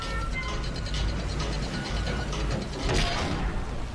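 A crank mechanism being turned in Uncharted 3, giving a steady ratcheting, clicking mechanical grind with gear-like rattles that persist throughout at moderate loudness, without speech.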